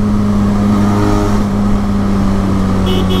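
A Triumph Tiger 800 motorcycle's exhaust drones loud and close in a steady, continuous low rumble with a strong humming tone, holding even throughout without revving up or down.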